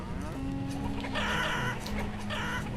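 Chickens clucking in the farming city-builder game Banished, a few short fowl calls rising over a steady ambient game background, with no talking.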